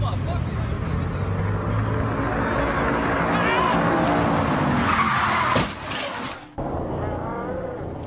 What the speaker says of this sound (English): You could also hear the tires screech just before that accident.